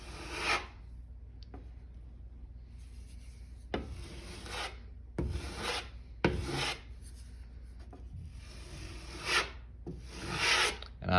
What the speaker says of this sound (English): take your knife with a little bit of mud on it, put a little thin coat on